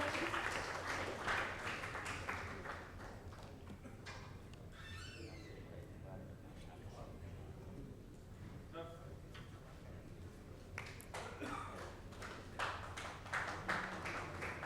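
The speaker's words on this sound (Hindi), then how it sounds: "जोरदार तालियां एक बार सर के लिए" An awards-ceremony audience claps in bursts of scattered applause at the start and again near the end, with a presenter talking over and between them.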